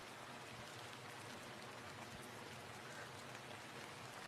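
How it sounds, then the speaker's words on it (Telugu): Rain pours down steadily, a dense, even hiss of drops striking surfaces that carries on without a break, with no voices over it. "ఇలాంటి వర్షం పడుతున్నప్పుడు"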